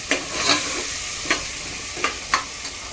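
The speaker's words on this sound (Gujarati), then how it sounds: "હવે આપણે બટેકા નાખી દઈશું।" Potatoes tossed into a pan for Gujarati vagharela rice and stirred, a continuous sizzle broken by four or five sharp spoon-against-pan scrapes at uneven intervals, close up with no speech.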